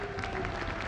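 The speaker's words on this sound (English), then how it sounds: "let's hear a round of applause" An audience applauds at the Celebration 2024 event, a dense, steady wash of clapping filling a large space, loud and continuous throughout the short moment.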